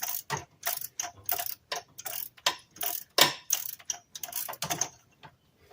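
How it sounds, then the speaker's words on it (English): A hand ratchet tightening the intake manifold bolts on a 2008 Dodge Charger gives sharp, rapid clicking bursts in a quick back-and-forth rhythm, close and clear, with no talk. "Once I get this thing tightened down, then all it is torquing the intake."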